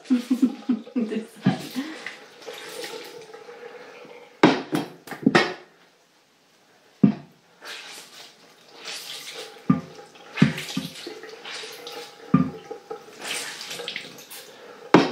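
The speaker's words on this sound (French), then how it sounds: "Je rince mon gant." A washcloth mitt is rinsed under running tap water at a sink, with splashing and water flow coming in bursts around short pauses, close by, while a person talks intermittently.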